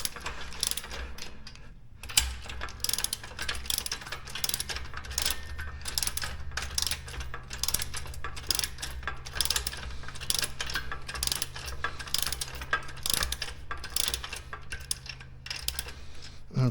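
A ratchet tightening a fastener during assembly of an Ultra Fuego UF-1186 home gym, with rapid, regular clicking strokes that continue almost without break, close and moderately loud, with no talking.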